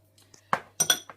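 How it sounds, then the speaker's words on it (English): A spoon clinks against a dish while Knorr seasoning is mixed in, with a few sharp metallic taps and scrapes spaced irregularly, close and moderately loud over a low steady hum. "I'm going to take that, a spoon of it, and mix it"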